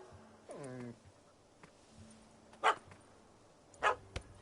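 A puppy gives a short burst of high, yelping barks with falling pitch, fairly close, followed by quiet and a couple of sharp thumps or knocks later on.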